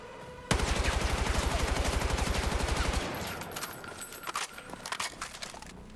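Rapid automatic gunfire at a wall in Battlefield 6, a loud sustained burst of evenly spaced shots for about two and a half seconds, followed by scattered impacts and softer game sounds.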